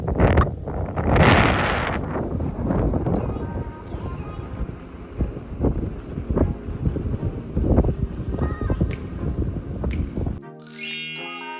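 Blustery wind buffets the microphone in rough gusts on a Florida beach, with faint tinkling chimes rising near the end.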